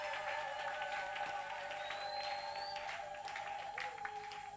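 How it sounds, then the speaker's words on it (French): Church congregation applauding and acclaiming Jesus at a French-language worship service, a steady wash of clapping and crowd noise with faint tonal music underneath, heard from some distance. "Acclamons pour notre Seigneur Jésus qui est présent."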